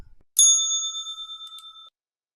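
A single bright bicycle-style bell rings once with a crisp strike. Its clear metallic tone fades away over about a second and a half, with nothing else around it.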